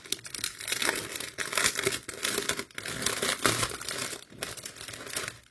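Plastic packaging of a cross-stitch kit crinkles and rustles loudly and close up as it is opened, in continuous uneven handling with brief pauses and no talking.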